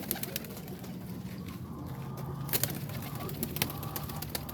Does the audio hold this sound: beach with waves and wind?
no